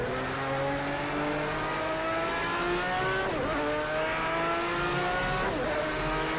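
A Group C endurance race car in Project CARS 2 at the Algarve circuit drones loudly as its engine revs climb, with two quick dips for gear shifts and faint tire noise underneath. No one talks.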